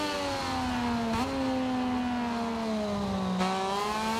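A Moto2 racing motorcycle's engine in MotoGP 25, a steady high whine with two quick downshifts where the pitch jumps, sounding close and continuous with no talk.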